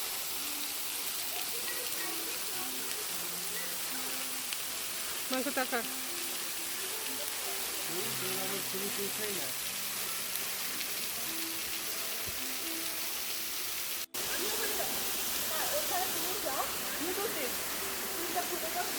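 Waterfalls in the Garden of Caves at Cherrapunji, Meghalaya, give a steady, loud broadband rush of falling water that runs the whole time, with people talking over it now and then.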